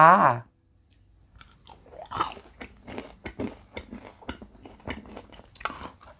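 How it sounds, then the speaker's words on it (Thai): Someone eats crunchy fried Korean tteokbokki, crisp outside and chewy inside: after a short spoken moment, close-up bites and steady crunchy chewing follow in an irregular rhythm. "เส้นต๊อกโปกีทอด เพิ่งเคยกินค่ะทุกคนค่ะ อร่อยไปอีกแบบนะคะ กรอบนอกนุ่มในหนึบๆค่ะ"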